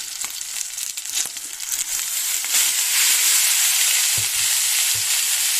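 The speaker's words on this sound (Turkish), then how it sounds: "Sacımız iyice ısındı arkadaşlar etimizi ekleyelim" Meat searing on a hot Turkish sac griddle for sac kavurma, a loud steady sizzle that swells after a few seconds, with occasional clinks and stirring sounds.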